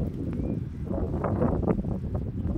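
Wind buffets the microphone in a continuous low rumble, with faint rustling and footsteps underneath.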